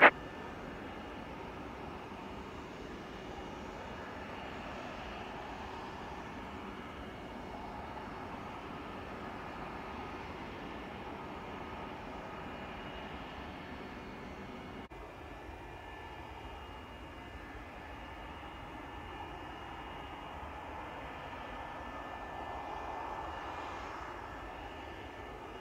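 ToLiss A321 jet engines spin up in the X-Plane 12 flight simulator, a steady broadband airliner engine roar that holds evenly and fairly loud throughout with no talking.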